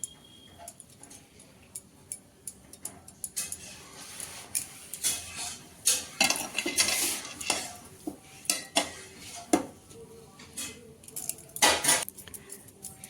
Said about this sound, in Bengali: এখান থেকে এবার আস্তে আস্তে ছোটো ছোটো করে আমরা লেচিগুলো কেটে নেব